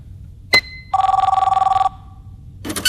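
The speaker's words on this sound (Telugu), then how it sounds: "అది ఫోన్ కాదు, ఫ్యాక్స్." A fax machine in an office rings with a long electronic trill of rapid repeated pulses, loud and close, after a sharp click, with a burst of noise at the end and no talk over it.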